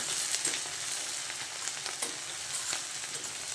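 Shrimp and turnip frying in foaming mustard oil, a dense, steady hiss of sizzling with a few soft stirring scrapes, close up and without voices.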